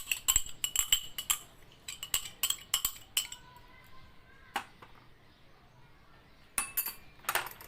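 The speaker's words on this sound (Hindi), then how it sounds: "अब इसमें डालते हैं पहले दही" A metal spoon clinks repeatedly against a small bowl while spooning curd into a face-pack mixture of sandalwood powder and multani mitti, a series of sharp taps in bursts with quiet gaps and a soft bright ring between.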